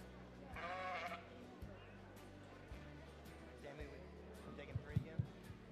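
A sheep bleats once, loud and wavering, in the show ring at a county livestock show. A few soft thumps and faint crowd sounds follow.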